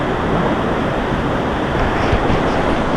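Rough ocean surf rolls onto a private hotel beach in Jamaica, a steady loud wash of breaking waves and hiss with no voices over it.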